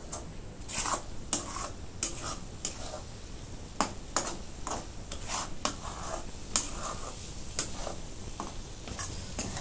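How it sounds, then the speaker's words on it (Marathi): Spiced egg bhurji is stirred and tossed in a pan, a soft continuous sizzle under repeated scraping, tapping strokes of a spatula against the metal, close by with no talking. "परतून घेते चांगलं."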